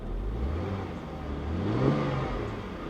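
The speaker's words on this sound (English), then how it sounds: "because watch, when I hit the gas," The engine of a low-mileage, one-owner Cadillac Catera (Opel Omega) revs as the gas is pressed, a low mid-range hum swelling and rising in pitch before settling, heard from inside the car.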